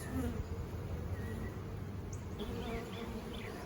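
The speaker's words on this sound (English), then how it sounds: "A lot of bees on that" Many honeybees buzz in a dense, steady hum around a hive, close and continuous, with individual insects droning past now and then.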